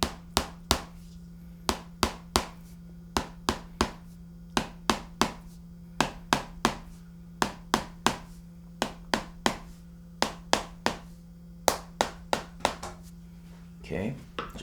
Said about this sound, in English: basically we're going to do some light taps along the paraspinal